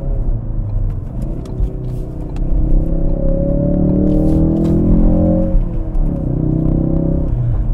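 A Ford Focus RS engine hums low and steady, rising gently under light throttle, with a muffled cabin rumble throughout and no talking.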